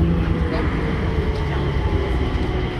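An airport-bound passenger train runs with a steady, loud rumble heard from inside the car, continuous rolling noise with no clear breaks.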